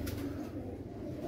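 A Jonsra pigeon gives a brief, close, low cooing call, soft and throaty, with no voices over it.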